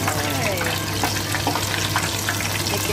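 Minced pork balls seasoned with oyster sauce fry in hot oil in a pan, giving a dense, steady crackling sizzle with a low hum underneath, close and continuous throughout.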